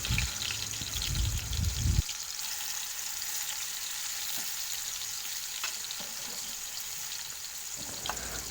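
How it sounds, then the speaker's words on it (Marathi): Stuffed bitter gourds set into hot oil in a kadai, opening with a brief loud clatter and thump, then a steady soft sizzle and crackle of frying that carries on alone. "कढईत मी दोन पड्या तेल गरम करून घेतलेलं आहे सर्व कारले आपल्याला इथं कढईमध्ये ठेवून द्यायचे आहेत"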